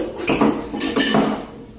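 Plastic food containers and lids clatter in a kitchen drawer, a few short rattling bursts of knocking and sliding close by, with no talking.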